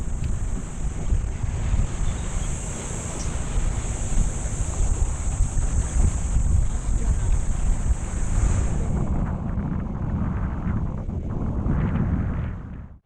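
Strong wind at the sea buffets the microphone in a constant heavy rumble, with a steady high whine above it that fades out toward the end.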